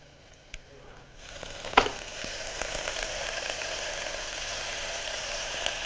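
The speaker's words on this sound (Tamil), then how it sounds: "போட்டு நல்லா வதக்கலாம். வெங்காயத்தை போட்டும், பச்சை மிளகாய் போட்டும், தக்காளி பழத்தை போட்டு" Onions, green chillies and chopped tomatoes sizzle while being sautéed in a pan, a steady close frying hiss that swells after a quiet start and holds evenly, with a sharp clink near the beginning.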